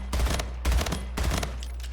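Battle rifle fire in the shooter game Splitgate: three quick bursts of rapid shots, evenly spaced and moderately quiet, each cutting off sharply, with no talking.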